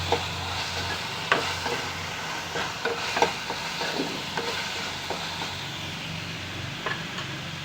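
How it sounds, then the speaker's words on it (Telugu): Potato and capsicum curry fries in oil in a pan while being stirred, a steady close sizzle under repeated scraping clicks of the spoon against the pan. "చూడండి ఆయిల్ బయటకు వచ్చేలాగా వేగుతుంది కర్రీ బాగా ఎంత బాగా వేగితే అంతా బాగుంటుంది"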